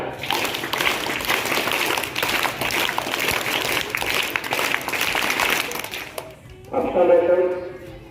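An audience of students and teachers claps at a school prize event, a dense patter that runs for about six seconds before dying away, and a voice then speaks alone.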